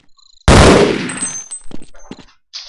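Sniper gunfire in the Half-Life video game, one loud close shot with a long rough roar that decays into rattling echoes, a couple of short metallic follow-up sounds, and a brief tone near the end.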